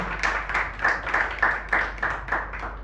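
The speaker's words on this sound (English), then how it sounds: "Give a huge round of applause to both of them." An audience at a design masterclass applauds the speakers, with steady rhythmic clapping from a moderate crowd filling the room at even strength throughout.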